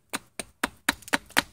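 A knife chops roughly at a wooden bow drill spindle, tapering its ends: six crisp, close taps in a fairly even rhythm, each short and woody, with quiet gaps between strikes.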